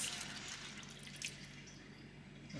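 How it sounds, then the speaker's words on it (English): Water poured into a pan of cheesesteak meat gives faint, soft splashing and trickling, with a couple of brief brighter splashes. "we're going to add about a cup of water to start and see where that leads us"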